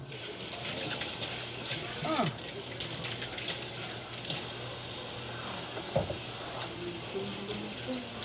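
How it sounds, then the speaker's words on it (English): A kitchen tap runs in a steady close hiss as hands are washed at the sink during home cooking of seafood pasta and fried fish, with faint clatter and a little background voice. "I'm gonna wash my hands"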